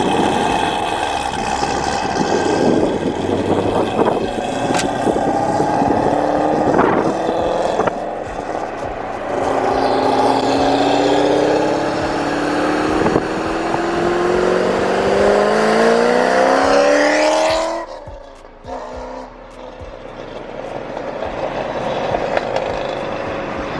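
A Ford Mustang GT350 V8 engine revs hard several times, climbing in rising sweeps between idle stretches, then cuts off abruptly near the end before settling back to a low rumble; the sound is loud and close.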